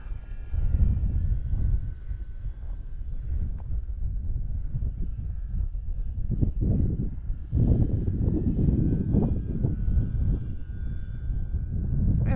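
Small aircraft engine droning steadily as the plane takes off, with the engine note surging around the middle and wind buffeting the microphone, no talking.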